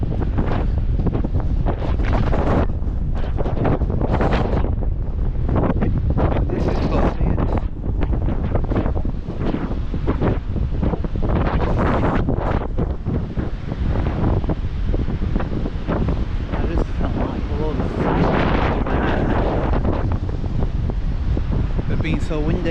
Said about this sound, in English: Being so windy.